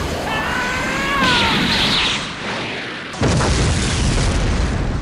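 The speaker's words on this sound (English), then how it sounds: "Surely that means an even bigger explosion would be better" Huge explosion from an animated planet-destroying blast, a loud rumbling boom that swells, dips, then bursts again into a dense roaring wash, with whining tones at the start.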